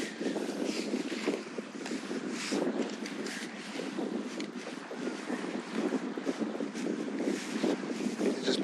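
A motorboat passes near a kayak at sea off Port Ellen on Islay, its engine a low, continuous rumble mixed with gusty wind buffeting the microphone.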